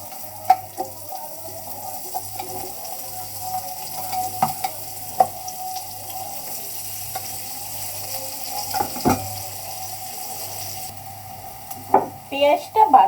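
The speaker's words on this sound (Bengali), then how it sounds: "এখন যে তেলটা আছে ওই তেলটার ভিতরে আমি পেঁয়াজ দিয়ে দিব।" Onions sizzle in hot oil in a village kitchen, a low steady frying hiss broken by clinks and scrapes of a utensil against the pan, with occasional watery stirring sounds and no speech.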